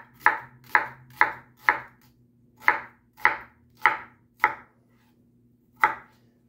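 Onions are chopped with a knife on a board in ten crisp, evenly spaced strokes, close and clear, with a short pause before the last one and a low steady hum underneath.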